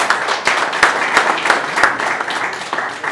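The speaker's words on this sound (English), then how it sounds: "please let's give him another round of applause" Audience applause at the ngNOG 2017 network operators' gathering, a steady wash of many hands clapping close by with a few sharper individual claps standing out, continuous for the whole stretch.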